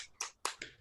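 Classroom spirit clapping (tepuk semangat): a few quick, faint claps in an uneven rhythm, heard alone and close.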